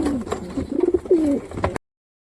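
Crested Giribaz pigeons cooing up close, a short run of soft, throaty coos rising and falling for under two seconds before stopping abruptly, with no speech.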